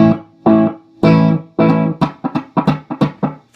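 A Roland Space Echo RE-201 tape echo unit processes loud, distorted tonal bursts, with some notes given space and others coming in quick repeated stabs. The echoes and the playing sit close and dry with no talk over them.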